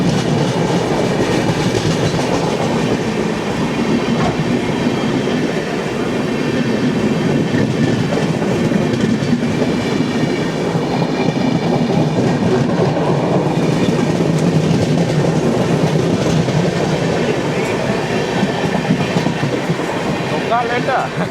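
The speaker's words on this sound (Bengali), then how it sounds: "এটা এক্সপ্রেস গেল" An express train rumbles past continuously, loud and close, with rhythmic clattering wheels and occasional squeals, voices faintly audible beneath.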